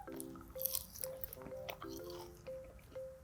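Quiet, close-up chewing of a yakgwa (Korean honey cookie) with a crispy outer edge and chewy inside: soft squishy bites and a faint crunch, over a gentle tonal background.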